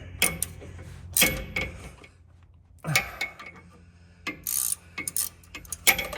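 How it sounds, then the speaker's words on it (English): A 1/4 inch Allen bit drives pinch bolts tight on a truck steering knuckle, giving irregular bursts of ratcheting mechanical clicks and short whirs separated by quiet gaps. "I'm going to use a 1/4 inch Allen bit to tighten up the pinch bolts here"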